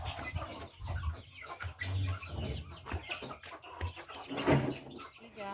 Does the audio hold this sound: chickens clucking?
yes